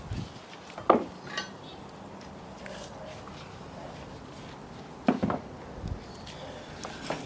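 A cast-iron pot of beef and red wine stew over an outdoor fire, with two sharp metallic clanks as the pot is handled and the lid set on, separated by quiet crackling background and faint knocks.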